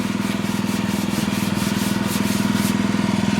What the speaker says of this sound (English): I'm gonna scrub this. Just a regular old brush.